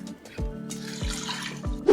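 Water pours into an Instant Pot holding dried black beans and vegetable broth, a short splashing trickle broken by a few soft low thumps.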